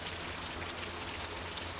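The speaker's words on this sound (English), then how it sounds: "Oh boy, the rain's starting to come." Rain begins to fall outdoors during a storm at a 1930s house under restoration, a steady dense hiss of drops on surfaces heard alone throughout.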